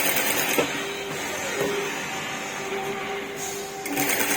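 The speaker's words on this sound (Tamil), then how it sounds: "இந்த அம்பில் அப்படியே தைச்சிக்கலாங்க இப்போ நான் தைக்கிறேன் பாருங்கள்" A sewing machine stitches lace onto blouse fabric, its steady mechanical whirr and rhythmic needle ticking running close and even throughout.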